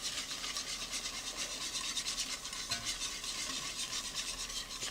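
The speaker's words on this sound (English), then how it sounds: "And make sure y'all constantly stirring this because it will go to the bottom." Constant scraping and swirling of a spoon stirring seafood sauce in a pot, a soft rhythmic rasp that keeps going without pause at low volume.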